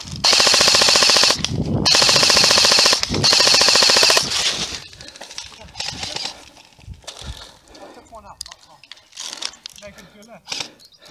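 Full-auto gunfire in a multiplayer video game: three long, loud bursts of rapid fire in the first four seconds, followed by scattered quieter game sounds under players' voice chat.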